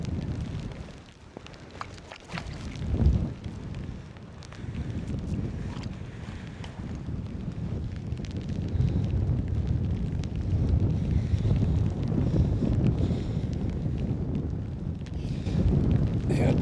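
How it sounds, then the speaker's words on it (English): Strong wind buffets a fishing boat out at sea, a steady broadband roar and rumble with gusty swells and a brief louder burst near the start, continuous throughout with no clear voices. "the wind has really picked up again"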